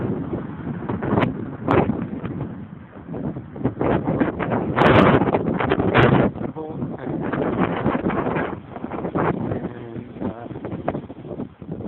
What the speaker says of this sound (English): it's also windy as hell